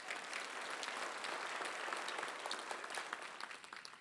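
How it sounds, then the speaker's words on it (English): Audience applause at a school district sports hall of fame induction, a steady wash of many hands clapping, fairly faint and distant, held for several seconds before thinning out. "big round of applause"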